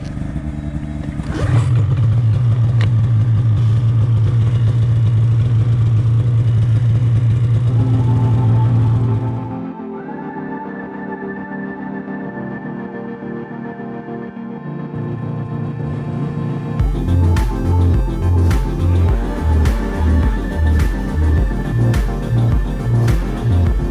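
A snowmobile engine idles close by with a steady humming drone that drops and shifts partway through, then settles into a rougher, pulsing idle.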